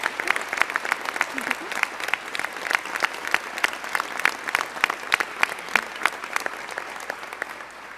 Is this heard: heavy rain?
no